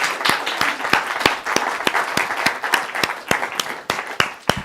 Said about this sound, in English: can we have a round of applause for our worship team?